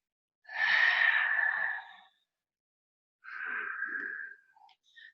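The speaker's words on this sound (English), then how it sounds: "constrict the glottis, the back of the throat, to make that hissing or ocean type sound as you breathe." Two long, breathy hisses of ujjayi yoga breath drawn through a constricted throat, a slow inhale and exhale with a short silent pause between them, close and clear, like a soft ocean sound.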